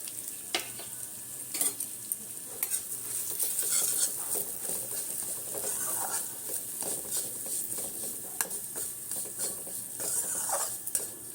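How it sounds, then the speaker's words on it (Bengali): Soft, steady sizzling of sesame seeds frying in ghee in a pan, with intermittent light stirring clicks and scrapes of a spoon against metal. "এইগুলো তো ভাজা হবে, আমি আগে একটু ভেজে নিচ্ছি।"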